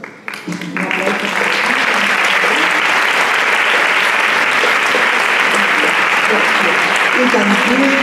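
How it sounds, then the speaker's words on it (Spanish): Sustained, dense applause from an auditorium audience at a tribute event, rising within the first second to a loud, steady roar of many hands clapping that holds throughout. "Un aplauso."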